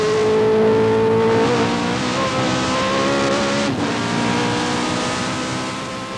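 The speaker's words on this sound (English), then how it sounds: "Just listen to the roar of his Ford DFV engine and watch the rev counter." A Ford DFV engine in a 1989 British Formula 3000 race car roars loudly at Thruxton, its sustained high-pitched howl climbing and dipping as revs change, steady and close throughout with no talk.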